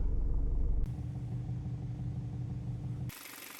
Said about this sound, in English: It has 2-liter 4-cylinder turbocharged petrol engine, which sounds like a diesel